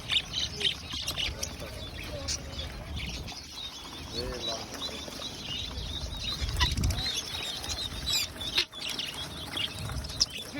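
Small parrots chirp and squawk in a busy chorus at a bird market in Kuwait, with wings flapping and a voice speaking faintly in the background.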